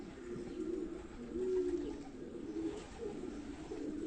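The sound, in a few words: pigeons cooing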